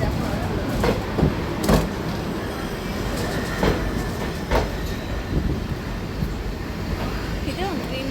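A train rolls slowly along Hanoi's narrow railway street, rumbling loudly and close with rhythmic wheel clacks and occasional faint squeals, while voices speak nearby.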